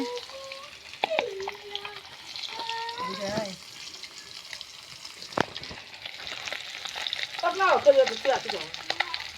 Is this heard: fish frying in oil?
yes